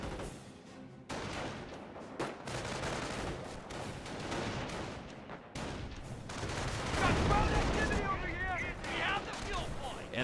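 Mortar shelling in the World War II strategy game Company of Heroes: a dense, continuous barrage of blasts and crackling gunfire that swells louder toward the end, with a voice faintly talking over it.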